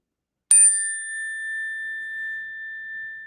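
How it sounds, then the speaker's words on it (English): A small bell is struck once, giving a bright, clear ding that rings on with a long, slowly fading tone in otherwise quiet surroundings. "Let me give a little bit of a bell here."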